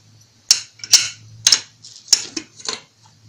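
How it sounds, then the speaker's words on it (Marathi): A pressure cooker lid is handled and opened with five sharp metallic clacks and knocks at uneven intervals, close and distinct over a low background hum. "आता आपण कुकर खोलून बघूया"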